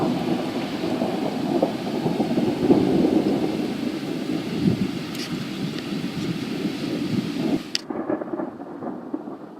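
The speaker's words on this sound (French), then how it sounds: "Nous faisons face à un orage de neige." Rumbling thunder rolls steadily through a snow thunderstorm in France, a deep continuous low roar that swells and fades, with a brief sharp crack near the end before falling quiet.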